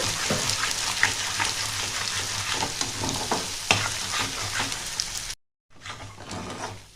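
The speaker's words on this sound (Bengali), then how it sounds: "এটা মিডিয়াম টু লো ফ্লেমে এটা কষতে হবে, নাহলে নিচে লেগে যাবে।" Potato curry masala being sautéed on a medium-low flame, with a continuous sizzle broken by scraping stirs of a spoon in the pan; the sound cuts out briefly near the end before returning, and no one talks.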